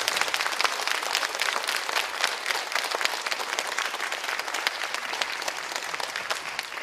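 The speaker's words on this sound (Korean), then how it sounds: "지금까지 총 29곡의 곡들을 연주해주신 연주자분들께 다시 한번 감사의 박수를 드립니다." An audience at a children's composition results concert in Gimhae, Korea, gives a sustained round of applause for the performers, with thick, even clapping throughout and no voices on top.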